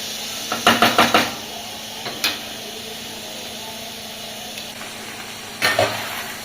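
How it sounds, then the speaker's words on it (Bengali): Pork fat rendering in a pan without oil sizzles steadily, with a few clusters of utensil knocks and scrapes as it is stirred, close and clear, with no talk. "দেখো তো তেল ছাড়ছে চর্বি"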